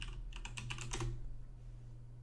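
Rapid, light clicking of keys on a new computer keyboard comes in a quick flurry, then stops, leaving a faint low hum behind.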